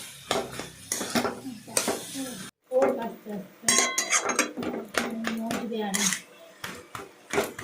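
Spoon scraping and clattering in a pan as banana stem is stirred with sugar, with irregular metallic clinks and scrapes and a brief pause midway, near and fairly loud, with some voices in the background.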